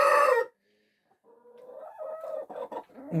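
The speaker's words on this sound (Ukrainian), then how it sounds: "Кури у мене породи грізбар" A short burst of clucking from Grizbar-breed chickens opens, then a pause, followed by softer hen calls and scratchy rustling, close by.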